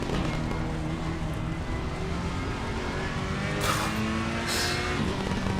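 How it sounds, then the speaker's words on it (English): A race car engine from Assetto Corsa Competizione during the 24 Hours of Spa drones loudly and steadily from onboard, its pitch rising and falling slightly as the car holds speed. "Let's have a listen to the engine."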